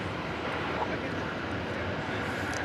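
An Airbus A321 airliner on a flight from Kansas City gives a steady, moderately loud broadband engine roar that holds evenly for a few seconds with no talk over it.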